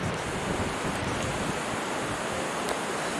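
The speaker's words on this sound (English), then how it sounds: "Listening to a lot of wind up here now." Strong wind roaring through a forest as a dense, constant rush of broadband noise with microphone buffeting, loud and unbroken throughout, with no other sounds standing out.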